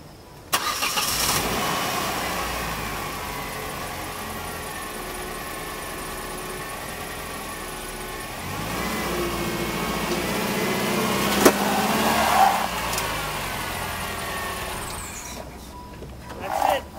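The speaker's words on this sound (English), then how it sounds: "So when I drive up the ramps, I know exactly when to stop." A Land Rover LR3 idles and then drives up onto ramps, its steady mid-range engine note swelling around the middle with a brief clunk or squeak, then easing off near the end; no talk.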